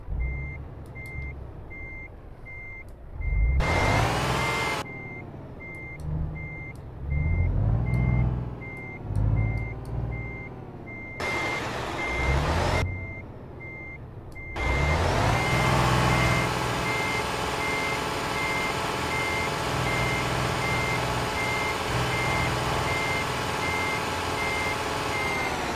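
Steady, evenly spaced high reversing beeps from a truck in the driving game Euro Truck Simulator 2, sounding loud and repeated over a low engine rumble that swells and eases as the rig backs toward a trailer.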